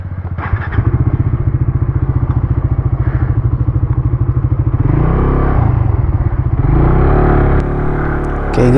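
A motorcycle rides off-road through a forest, its engine close and loud with a rapid, even pulsing that gives way to heavier revving and rough, strained running.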